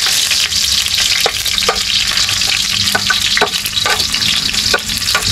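Garlic frying in a pan, a steady loud sizzle with occasional stirring clicks, no voices.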